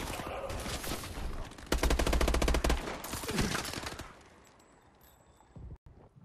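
Rapid automatic gunfire from a Call of Duty: Advanced Warfare team deathmatch, dense and loud bursts peaking midway, then tapering into quieter game ambience with a few last scattered shots.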